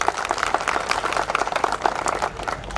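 Men in an audience at a Marathi motivational talk clap loudly for the women, a dense, steady burst of many hands sustained throughout, close and energetic.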